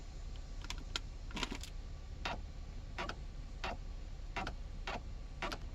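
Quiet, sharp clicking ticks from the gear shift lock of a 2008 Hyundai Veracruz repeat irregularly over a low steady hum, close by and faint.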